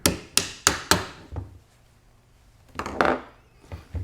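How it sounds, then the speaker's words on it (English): A rawhide mallet tapping a magazine spring retainer into a Benelli M2 semi-auto shotgun: four sharp, evenly spaced knocks, a softer one, a pause, then a few more close taps. "take the magazine spring retainer and tap that back in with a rawhide mallet"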